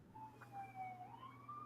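Emergency vehicle siren wailing outside at night, a steady rising and falling tone over low traffic rumble, moderately distant and continuous with no talk.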